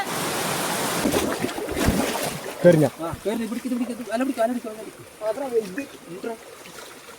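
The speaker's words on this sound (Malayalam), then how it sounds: "അവിടെ നിന്ന് ഇങ്ങോട്ട് ഒഴുകി വരുന്ന വെള്ളം" A small shallow village stream trickles and flows steadily nearby, with people talking over it for much of the time.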